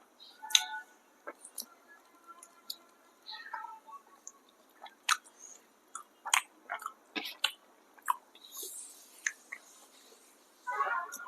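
Close, quiet chewing of roti with gongura chutney: soft wet clicks, smacks and squishy bites in an irregular rhythm against near silence.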